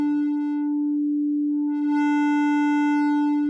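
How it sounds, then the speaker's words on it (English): A synth tone from a sine-to-trapezoid wavetable in Massive X holds one steady pitch throughout, starting pure, turning brighter and buzzier with rich overtones, thinning briefly, then growing bright again. "we can visualize this with the sine to trapezoid wavetable here in Massive X"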